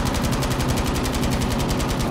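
A machine gun in a video game fires a fast, steady stream of rounds, loud and close, continuing without pause throughout.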